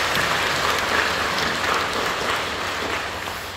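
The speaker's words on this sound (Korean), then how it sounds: "박수로 격려해 주시고 고맙습니다." A church congregation applauds warmly during a worship service, a dense, steady wash of many hands clapping that fills the room and fades slightly at the end.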